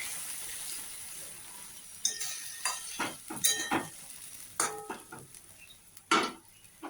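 Ginger, garlic, onion and green chilli paste fries in a pan, a faint low sizzle broken by repeated scrapes and clinks of a spatula stirring against metal, irregular and close.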